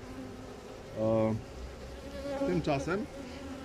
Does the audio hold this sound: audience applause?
no